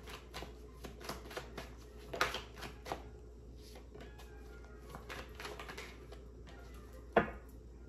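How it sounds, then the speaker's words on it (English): Tarot card deck being shuffled during a reading, quiet repeated riffling and soft tapping of cards at close range, with a couple of sharper clacks standing out in a hushed room. "Shuffle for Taurus."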